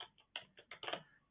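Quiet, close clicks of typing on a computer keyboard, a quick irregular run of keystrokes.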